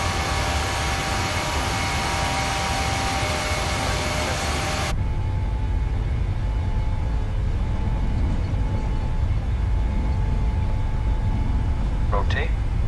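Loud, steady broadband roar of PMDG 737 jet engines spooling up to takeoff power in a flight simulator, filling the clip with a constant rumble and whine, with faint voices and clicks underneath.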